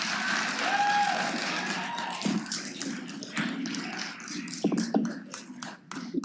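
Applause from the audience at a city council committee meeting in Memphis, scattered hand claps rising and fading over a few seconds, moderately quiet in a large room.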